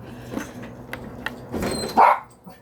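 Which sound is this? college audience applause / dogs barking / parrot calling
dogs barking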